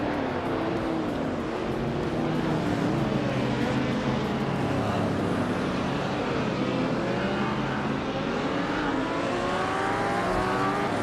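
Race cars in a racing video game roar continuously, engines droning loud and steady with overlapping pitches rising and falling as cars pass and chase one another, no pauses throughout.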